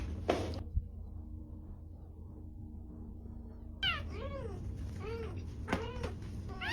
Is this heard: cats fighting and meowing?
yes